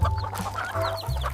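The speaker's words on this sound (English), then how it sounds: "Chickens can't resist these." Farm chickens cluck busily and close by, overlapping calls in a continuous chatter over a low background hum.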